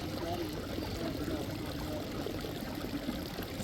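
Water trickling and gurgling through a shallow rocky stream, a soft continuous flow at moderate distance, steady from start to finish with faint background murmur.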